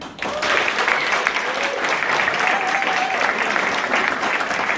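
An audience claps steadily in a club venue, dense applause filling a few seconds after a brief pause, fairly close and even in loudness, with a faint voice underneath.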